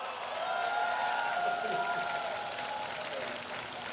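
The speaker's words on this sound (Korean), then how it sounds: "여러분께서 박수를 치신 것으로 그렇게 알겠습니다" An audience applauds at a South Gyeongsang provincial sports festival ceremony, a broad, steady wash of clapping that carries on for several seconds at moderate volume with a faint voice underneath.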